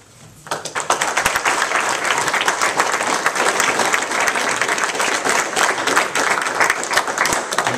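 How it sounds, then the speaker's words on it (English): A crowd at a council meeting breaks into applause after a near-quiet start, a dense, steady clatter of many hands clapping close by that keeps up to the end. "you can clap while you're at it"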